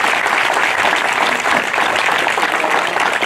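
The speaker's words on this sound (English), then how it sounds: "A round of applause for them." Crowd applause at an outdoor Memorial Day ceremony in Somerdale, New Jersey, honoring a high school ROTC unit and marching band: steady, dense clapping from many hands, loud and continuous throughout with no talk over it.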